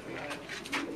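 Pakistani pigeon cooing softly on a rooftop loft in Jeddah, Saudi Arabia, a low throaty burble repeating under steady background noise, faint and close.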